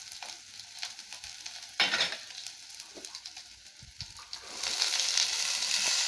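Beans and carrot stir-frying with curry leaves in a pan for a poriyal, a continuous close sizzle with scattered stirring scrapes that swells louder toward the end, no voices.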